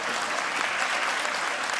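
Studio audience applauding during a TV talk show interview, a short steady burst of clapping at moderate level with no voices.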